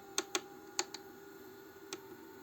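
A few crisp button presses on the control panel of an automatic tape dispenser machine: two quick clicks, a close pair, then one more after a pause, close up with a faint steady hum behind.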